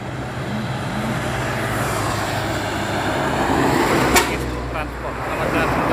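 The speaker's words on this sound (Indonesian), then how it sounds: "Lintas bus pariwisata" White tour bus on a Jogja road passing close, a continuous engine and tyre rumble with a sharp clunk midway, then fading slightly, with faint talk in the background.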